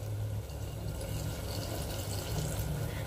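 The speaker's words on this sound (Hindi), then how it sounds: "अब इसमें पानी ऐड करेंगे जितनी आपको ग्रेवी चाहिए" Water is poured into a pressure cooker holding mushroom and pea gravy, a steady close-up trickling and filling sound over a low hum, with no talking.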